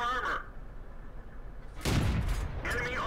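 A tank cannon fires in the World of Tanks video game, one loud, booming blast with a lingering rumble. It comes after a quiet stretch and a short burst of voice.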